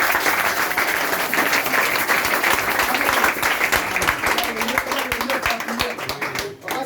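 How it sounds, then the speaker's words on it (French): Congregation in a church in Libreville, Gabon, applauding loudly and close by, with dense, energetic clapping that holds steady, then briefly dips near the end with some voices mixed in. "applaudissons quand même pour nous."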